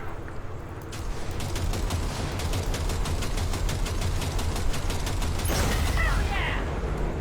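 Rapid automatic gunfire from Cyberpunk 2077 rattles in a long sustained burst of evenly spaced shots, loud and close, with a burst of sharper crackling near the end.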